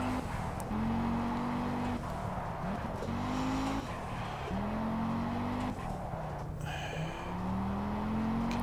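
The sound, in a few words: slow car driving at Monte Carlo in video game Project Cars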